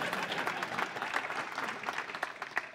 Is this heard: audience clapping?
yes